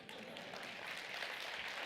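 Applause from a lecture audience at a conference session, a steady, faint wash of clapping from a distant crowd.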